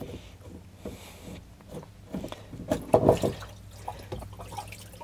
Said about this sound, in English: Drain out all that water.